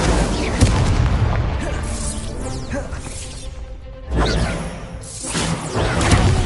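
Incendio fire spell cast in the video game Hogwarts Legacy, loud whooshing fiery bursts and booming blasts rolling in waves, close and dense, with sharp hits at a few points.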